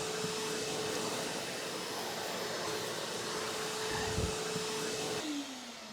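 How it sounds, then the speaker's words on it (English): A shop vac fitted with a circular brush attachment roars steadily while sucking up debris around an outdoor cat shelter, with a brief knock near the end before the motor winds down. "I'm going to go use the shop vac just to keep any bugs or debris out of the central vac"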